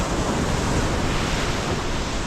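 Big ocean waves break on a deserted white-sand beach on the Vengurla coast of Konkan, a steady, loud roar of surf and wind with no voices.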